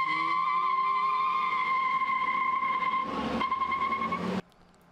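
Stock Honda Civic Si with Florida plates doing a burnout at a car meet: a loud, steady engine drone with tire squeal for about four seconds, then a brief rougher burst before it cuts off abruptly.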